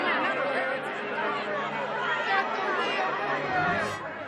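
A restless crowd of many voices chatters steadily at a fairground with a Ferris wheel, a dense babble of overlapping talk that holds at an even, fairly loud level throughout.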